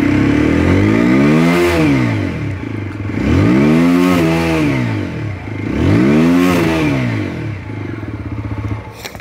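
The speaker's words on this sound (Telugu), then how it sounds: "సో ఇది చాలా బేస్ హెవీ ఎగ్జాస్ట్ నోట్ మనకి ఆఫర్ చేస్తుంది." A black edition TVS Apache RTR 160 4V motorcycle's bass-heavy exhaust revs three times in a row, each rising and falling in pitch, loud and close, before settling into a rough idle.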